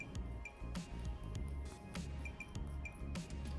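A paintbrush is tapped to spatter paint onto a ceramic piece, making a close, continuous run of soft wet taps and tiny drips with faint clinks.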